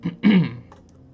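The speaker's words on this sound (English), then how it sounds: "Hopefully I'm not clearing my throat too much." A single short throat clearing, two quick rasping pushes close to the mic, then quiet.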